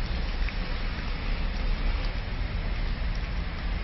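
Rain falls in a steady, even hiss of dense drops, continuous and fairly close throughout with no voices.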